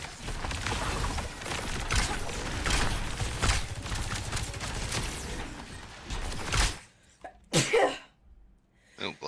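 A single loud, close sneeze bursts out near the end, after a stretch of busy, noisy background that drops to near quiet just before it.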